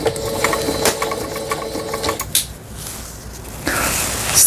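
A home sewing machine runs fast while stitching, a steady rapid mechanical chatter that breaks off with clunks and a brief pause before the motor whirs again, close and fairly loud.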